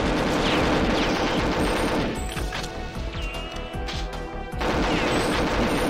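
Automatic gun turrets in the video game Perfect Dark blaze away in rapid, sustained bursts of loud gunfire, with overlapping shots and crashing impacts filling the whole stretch, briefly thinning midway before resuming at full intensity.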